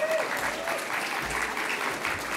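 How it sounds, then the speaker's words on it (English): A tech meetup crowd at an AR/VR wearables event in Toronto applauds the Mars team, a dense, even roar of clapping that holds steady from start to finish. "I want to just give a real, real loud clap for the Mars team right now"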